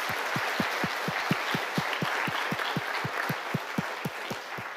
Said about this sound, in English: let's do one more round of applause for everybody that presented